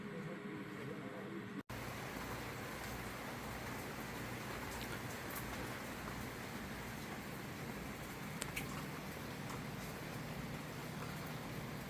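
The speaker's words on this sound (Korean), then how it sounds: "비가 와서" Steady rain falls at a mushroom selling and packing site in Korea, a dense, even hiss that continues unbroken for the whole stretch, with no talking and only faint scattered drips.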